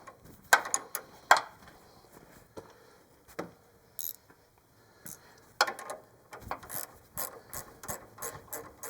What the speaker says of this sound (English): Ratcheting open end would work